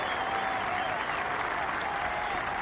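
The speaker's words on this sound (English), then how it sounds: "He won't have seen it, but he'll certainly have heard the applause" Steady crowd applause at Royal Liverpool, Hoylake, during the 2006 Open final round, greeting Ernie Els' birdie putt; a dense, even clapping wash heard from a distance, unbroken throughout.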